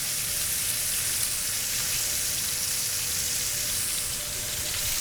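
Steak, a New York strip, searing in a hot pan, its fat edge crisping, gives a steady close sizzle and crackle that runs unbroken and fairly loud with no talk over it.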